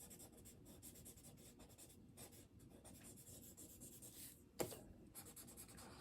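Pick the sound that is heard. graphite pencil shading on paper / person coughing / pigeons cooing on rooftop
graphite pencil shading on paper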